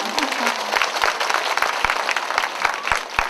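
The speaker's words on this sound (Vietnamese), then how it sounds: "Thì một lần nữa mình vỗ tay quan lên cô Hoa Minh và gia đình." An audience at a temple New Year's Eve celebration applauds, a lively burst of clapping with some crowd murmur underneath, a voice speaking briefly at the start, and steady rhythmic thumps running through it.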